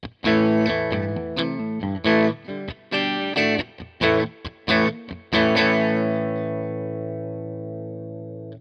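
An electric Telecaster guitar through a Tube Screamer-style overdrive pedal, with a driven, gritty tone, plays a series of chords and short stabs, ending on a long ringing chord that slowly fades out.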